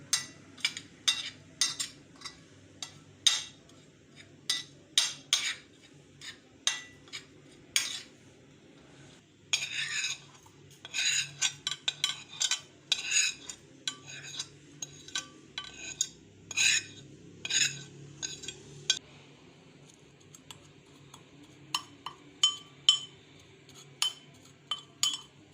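A spoon clinks against a bowl as turmeric, gram flour and other ground spices go in for a stuffed round gourd dish, giving many sharp metallic taps in irregular bursts, close and fairly quiet, with no voices.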